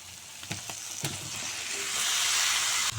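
Fried flat beans and potatoes tipped into a pan of sizzling spices, with a few soft knocks and stirring taps, then a rising, steady hiss of frying close up that cuts off abruptly.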